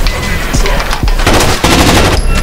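Dense automatic gunfire in Rainbow Six Vegas 2, with rapid bursts of loud, sharp shots filling the clip almost without a break.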